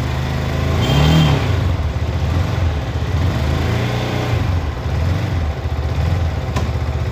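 A Yamaha R15 V4 motorcycle engine fires up and settles into a loud, close, steady idle with a brief rise in revs just after starting.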